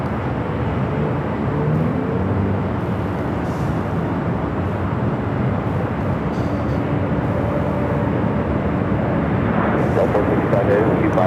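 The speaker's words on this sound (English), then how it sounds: "this 767 heading to Honolulu" A Boeing 767 bound for Honolulu takes off heavy at LAX airport, a loud, sustained jet roar that holds steady and builds slightly toward the end, with no speech.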